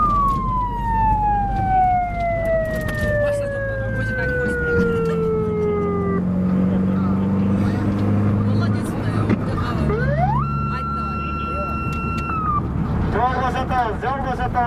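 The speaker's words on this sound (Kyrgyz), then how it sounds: "Tez yardımga yol veririz." An ambulance siren wails through road traffic, its tone sliding down and then rising sharply again, loud and near over engine noise, with a loudspeaker voice talking across it.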